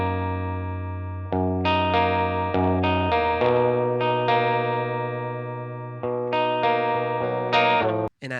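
Clean electric guitar arpeggiating two chords, run through chorus and echo effects, steady picked notes ringing into each other at moderate loudness with no voices.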